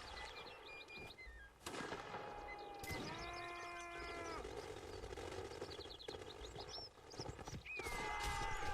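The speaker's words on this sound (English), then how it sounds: "Oh, random horse attack." Horses in the Mount and Blade: Napoleonic Wars battle game whinny and neigh in several rising calls over a dense din of musket fire, shouting and battle noise.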